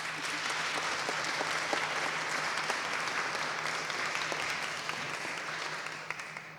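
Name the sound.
audience applause welcoming a panel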